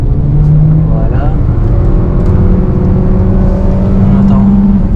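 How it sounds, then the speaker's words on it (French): Petrol engine of a Renault Captur E-TECH plug-in hybrid 160 hp accelerating, heard from inside the cabin: a loud, continuous drone with rising engine tones, steady and close throughout. "On entend le moteur thermique assez fort dans l'habitacle. En accélération."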